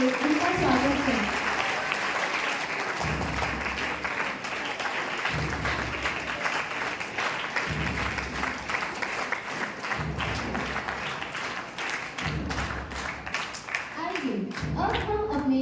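An audience at a school Hindi debate competition applauds to welcome the chief guests, with steady clapping across the whole stretch and a recurring low thump and some background voices underneath.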